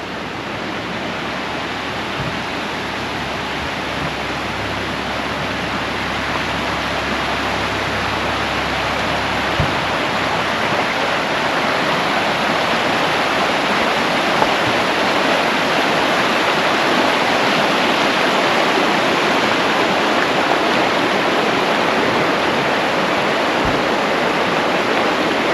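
Water of a stream along Paint Pond Trail near Hot Springs rushes in a steady, broad hiss, loud and close, continuing unbroken with no voices.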